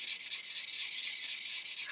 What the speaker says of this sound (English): So just keep sanding until we